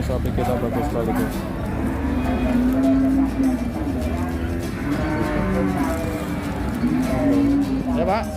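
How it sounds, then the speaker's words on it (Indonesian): Cattle moo repeatedly, some calls long and drawn out, amid the constant bustle of the Ngelangon livestock market in Sragen, with people talking throughout. "Ini sapi kita bagus sekali guys"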